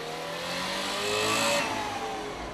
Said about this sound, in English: climbs into his somewhat older car and drives across Berlin